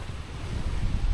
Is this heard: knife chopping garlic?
no